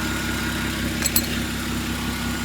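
A Volvo XC90 with about 245k on it idles steadily during an automatic transmission fluid change, warmed to 56°C, producing an even, close droning hum with a couple of faint ticks.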